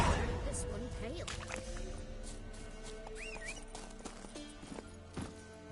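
Hooves clip-clop at a quick gallop as a horse runs in The Witcher 3, with a whinny or two over distant game ambience and music.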